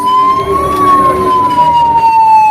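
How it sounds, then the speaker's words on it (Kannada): A loud, steady wailing ambulance siren sweeps slowly up and down close by, with road and engine noise underneath, passing through a crowded fair. "ಆಂಬುಲೆನ್ಸ್ ಹೋಗ್ತಾ ಇದೆ"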